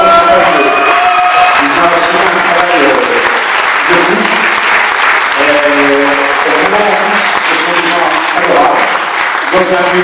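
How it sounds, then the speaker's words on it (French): A concert audience applauds loudly and steadily for about ten seconds, a dense, close wash of clapping with a few cheers, while a tonal sound or voice runs faintly underneath. "Je veux demander à Lutch, je voudrais qu'on applaudisse très fort les gens de la technique ici."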